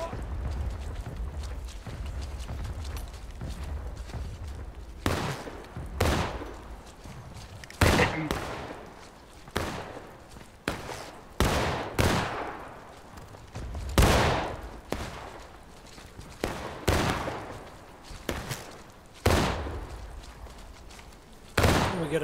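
Musket volleys in the American Civil War game War of Rights: loud, sharp shots crack in ragged bursts, some overlapping, near and far, over a low rumbling background.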